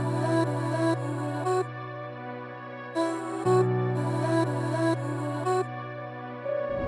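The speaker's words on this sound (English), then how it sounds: "so the final vocal chop sounds like this." A chopped vocal sample built in FL Studio with strings and piano, playing as a dark looping phrase with abrupt cuts and stutters, a low sustained bass layer, and bright breathy bursts recurring in sections, no talk.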